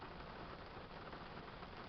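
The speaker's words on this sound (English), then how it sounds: "kind of feels like this rain's slowing down just a little bit" Rain pours steadily outside, heard from indoors as a constant, even wash of drops with no pauses or voices over it.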